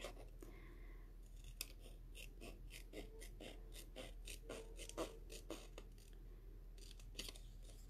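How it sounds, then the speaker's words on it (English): Scissors snip through card for a folded card in a quick run of crisp, close cuts, quiet with no talking. "So you can cut this out just with scissors if you're not confident with a knife."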